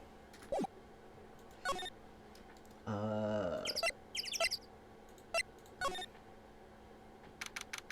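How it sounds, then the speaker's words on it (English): Scattered bird chirps and tweets from the video game Phoenix Wright: Ace Attorney ring out in short bursts, with a louder warbling call in the middle, over a low steady background. "birds are loud as hell"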